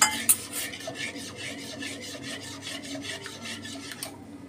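Steady raspy scraping of a spoon stirring lemon juice into a sugar mixture for homemade jelly, a close, continuous rubbing rhythm with a brief louder clink near the start and no talking.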